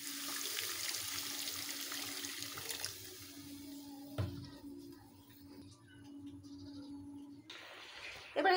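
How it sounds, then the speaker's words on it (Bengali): Water poured into a pan of taro curry that has been fried down until the oil separates, a steady splashing pour running for several seconds, then quieter trickling and a short louder burst at the end. "এবারে দিয়ে দেবো পরিমাণ মতো জল।"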